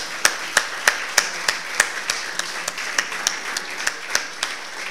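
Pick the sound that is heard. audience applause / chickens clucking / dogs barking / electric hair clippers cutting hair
audience applause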